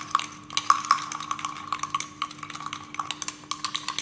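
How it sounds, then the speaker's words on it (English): Small amount of cake batter being mixed by hand in a bowl with vanilla essence, giving a steady run of light, quick clicks and scrapes of a utensil against the bowl, close and fairly quiet with no talking. "Again, give it a mix."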